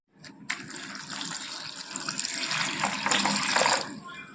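Water gushes and splashes steadily into a container of soya chunks nearby, building slightly louder toward the end.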